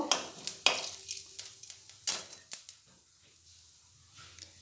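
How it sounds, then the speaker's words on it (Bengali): A dried red chilli and whole cumin seeds tempering in hot oil for lau chingri, stirred with a few sharp metal scrapes and taps over a soft sizzle that fades quieter toward the end. "এবার ফোড়নটা একটু নাড়াচাড়া করে নেব।"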